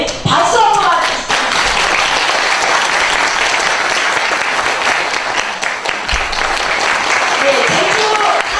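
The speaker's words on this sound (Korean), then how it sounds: "제주도민 명예도민 박수 한번 맞으십시오." An audience at a book concert in Jeju breaks into loud, sustained applause for an honorary resident, with a voice briefly speaking at the start and again near the end.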